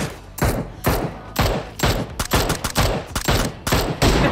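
Gunfire in the PUBG Mobile battle game, a run of repeated sharp, loud shots in uneven bursts, roughly a dozen cracks spread across a few seconds with little else between them.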